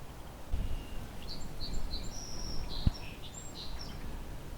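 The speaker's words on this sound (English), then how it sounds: "Song sparrow behind me" Song sparrow singing outdoors, a quick series of high notes and trills at moderate distance over steady ambient noise and faint insect buzz, with one sharp click partway through.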